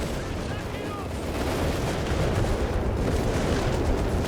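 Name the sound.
Vickers machine gun firing at tanks, Company of Heroes 3 video game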